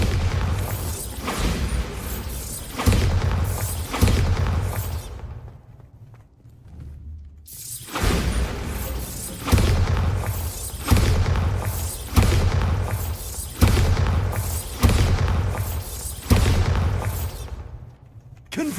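Bombarda explosion spell in Hogwarts Legacy, a loud series of booming blasts at a fairly regular pace, roughly one every second or two, with a brief lull partway through before the explosions resume.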